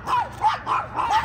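Several dogs bark repeatedly at close range, about four loud yapping barks in quick succession with overlapping whines, without speech.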